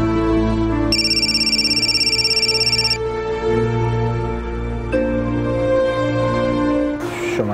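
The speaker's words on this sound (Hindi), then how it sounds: "इतनी देर से फोन बज रहा था, क्या कर रही थी?" A telephone rings in a Pakistani drama scene. A steady electronic ringtone plays alone over a background music bed, with bright tonal bursts repeating through the clip.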